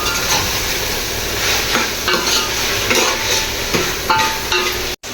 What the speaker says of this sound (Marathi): मटण पण तेलात छान परतून घ्यायचं, म्हणजे सगळा मसाला त्या मटणाला लागतो.